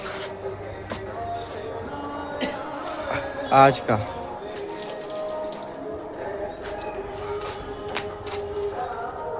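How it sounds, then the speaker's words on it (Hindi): Water sprays and splashes onto a house roof from a pipe, a soft continuous hiss with scattered drips and one louder splash, while someone talks over it. "पानी पटा रहा है ये।"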